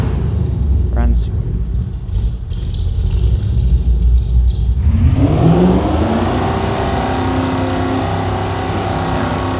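A pickup truck engine in a farming simulator video game cranks, then catches and rises into a loud, steady rumble, revving up close by the exhaust.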